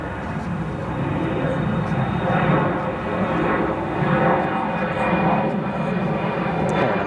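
An Embraer 175 jet airliner at O'Hare International Airport, heard as a steady, broad engine roar with a high whine that swells and fades slightly, distant and continuous without talk.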